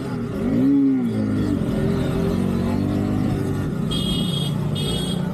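Car traffic on the road up to Nandi Hills near Bangalore: a steady, loud engine rumble with a revving surge early on and thin high-pitched tones near the end.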